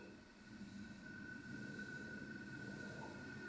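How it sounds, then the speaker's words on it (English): A double Metrolink tram rumbles along its tracks at a distance with a faint high whine of wheels on rail, quiet and steady. "And you can just hear a Metrolink going past on the other side."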